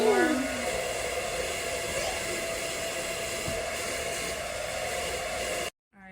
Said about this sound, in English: Blow dry it. Start with warm.